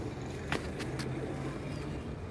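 Champion pigeons cooing in a loft, soft low murmuring coos with a few faint chirps over a steady hum of background noise, no talking.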